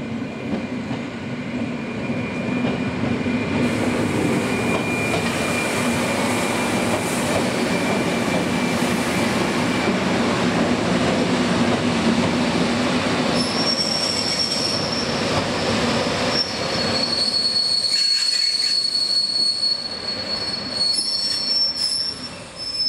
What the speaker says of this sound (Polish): No a tymczasem wjeżdża na stację pociąg